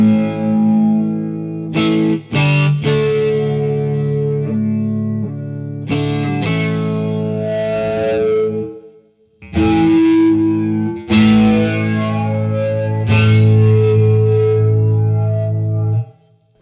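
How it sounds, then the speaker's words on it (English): PastFx 80/A flanger pedal at a fixed manual rate colours sustained guitar chords with a static comb-filtered, hollow, robotic tone, several loud strummed phrases separated by short pauses. "That lets you get some really cool sort of comb filtering sounds and robotic sounds"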